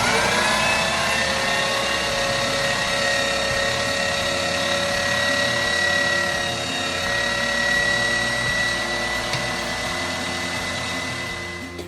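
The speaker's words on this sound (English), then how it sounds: "We ground it, the onions, everything together." A meat grinder churns cooked venison and onions for scrapple, a loud, steady mechanical whine with a high motor tone that runs unbroken throughout.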